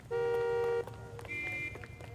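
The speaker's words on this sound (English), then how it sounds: "Oh, stop honking at me." Car horn honks from the L.A. Noire video game: a long steady blast, then a second higher-pitched sustained honk after a short gap, loud over a low street hum.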